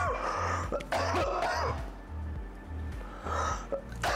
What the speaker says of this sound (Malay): Tak maaf batuk.